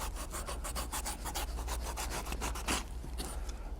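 Fine sandpaper rubs back and forth around the edge of a glued saddle-pad workpiece in quick, rhythmic scratchy strokes, close and steady with no voices.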